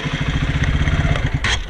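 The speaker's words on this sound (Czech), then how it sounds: "tak první zahřejeme motorky." A Honda CBR 125 motorcycle engine idling as it warms up outdoors on a cold morning at about two degrees, a close, steady, rapid low putter throughout with a brief clatter near the end.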